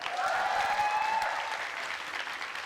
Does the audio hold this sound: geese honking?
no